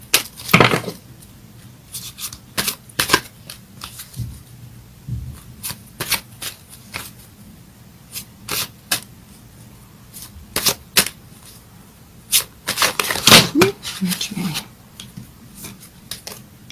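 Goddess tarot cards being shuffled by hand: repeated crisp riffling and slapping bursts in irregular runs, close and clear, with no talking.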